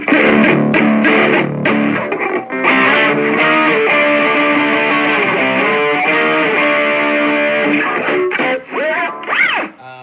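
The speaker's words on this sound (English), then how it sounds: "it sounds pretty good for a mini amp that has 3-inch speakers in it." An electric guitar played through a Blackstar Fly 3 mini amplifier with 3-inch speakers, a distorted, slightly boxy tone, chords and notes ringing continuously with a few bends near the end.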